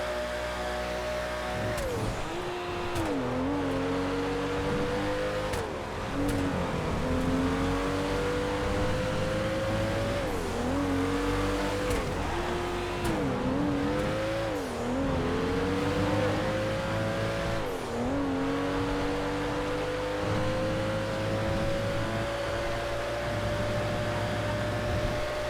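Simulated race car in a GTA FiveM online race at Spa, its engine revving loudly and continuously, pitch climbing through gears with repeated brief dips at shifts and braking, steady without voices.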